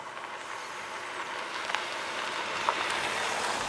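A Jeep Renegade Limited's turbocharged 1.4 MultiAir2 engine under way, heard as a steady, fairly quiet broadband hum of engine and road noise inside the cabin, with no voices.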